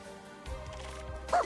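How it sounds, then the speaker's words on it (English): A puppy in the video game Reverse: 1999 gives a few short, soft yips and a brief whimpering bark, fairly quiet and close, with a sharper sound near the end. "The puppy."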